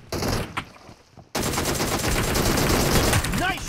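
Gunfire from the battle royale game PUBG Mobile: a loud burst of shots, then after a brief dip a dense, sustained run of rapid automatic fire that carries on to the end with little pause.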